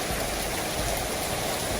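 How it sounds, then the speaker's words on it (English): Cold rain pours down steadily before a boat trip in the Philippines, a dense, even hiss of drops with no breaks, fairly soft and close throughout. "maybe this rain sound will help us stay good"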